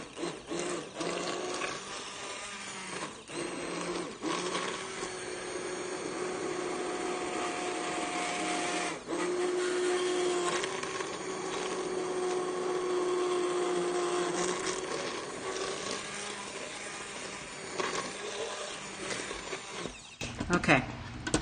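A blender whirs steadily through butter chicken sauce made in an Instant Pot, a continuous loud motor drone with small pitch shifts, briefly cutting out and restarting, with a voice talking over parts of it.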